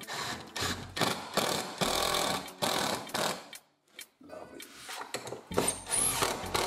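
A power drill drives screws through a scrap-wood jig into a wooden stool leg, whirring in repeated close bursts with short pauses between; one brief spoken word.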